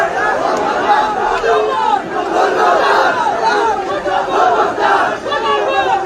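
A protest crowd in Pakistan-occupied Kashmir chants slogans in loud, continuous unison, with voices rising and falling in steady waves and no pause for the whole stretch.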